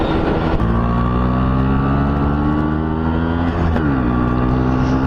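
A Yamaha RX135 two-stroke motorcycle rides along Hoskote market road, its engine a loud, steady, close drone with a slight pitch shift partway through and no talking.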